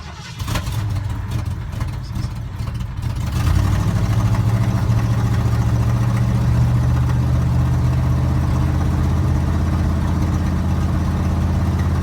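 A 1975 Ford F-150 with a 460 V8 cold-starting on a roughly 40-degree morning: a brief cranking stretch catches into a loud, steady, deep idle that holds close and unbroken for the rest of the clip.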